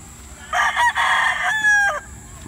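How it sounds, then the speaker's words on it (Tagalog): A stag rooster at a game farm at the foot of a mountain lets out one loud, close crow lasting about a second and a half over quiet background. "andito na yung mga stag po yata to"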